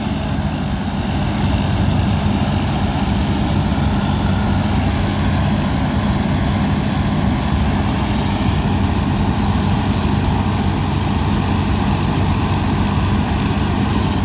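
A combine harvester threshes in a field on a trial run, a loud continuous engine drone and rumble without pause.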